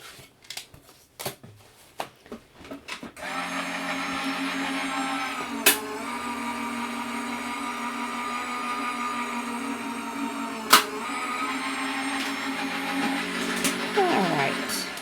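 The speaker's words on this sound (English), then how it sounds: "So I'm going to go ahead and run that through my die machine" A die cutting machine runs paper through for a card-making project, giving a steady loud whirring grind for about twelve seconds after a few short clicks and thumps at the start.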